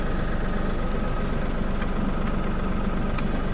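An LS MT342 tractor's engine runs steadily at close range, a low, even diesel throb with a constant rhythmic pulse and no talk.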